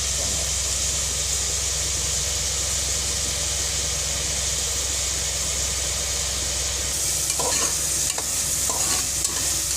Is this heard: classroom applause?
no